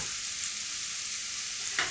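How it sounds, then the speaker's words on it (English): Chicken broth with celery, onions, black pepper and leftover chicken bubbles in a pot on the stove, a steady close hiss of simmering with a small burst near the end, no voices. "Here's my chicken broth over here boiling."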